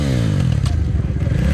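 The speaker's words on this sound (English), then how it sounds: "on the KTM SXX 450. Yeah, nice launch." A KTM 450 dirt bike launches hard off the start, its engine blaring loud and close with a rising pitch and a clattering rasp.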